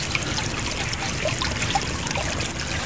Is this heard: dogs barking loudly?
no